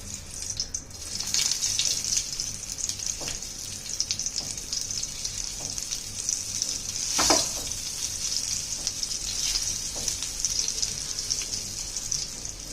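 Large pieces of bitter gourd sizzle and fry steadily in hot oil in a pan, a continuous crackling hiss with occasional stirring clatter, close and moderately loud.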